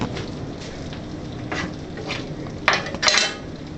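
Homemade garden stir fry being dished up, with plates and utensils clinking and scraping close by, a steady scrape with a few sharper metallic clanks near the end.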